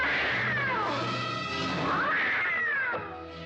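Cat meows and caterwauls from a 1957 film scene in which a cat attacks a shrunken man inside a dollhouse, with long rising and falling wails sounding loud and close over a soundtrack bed.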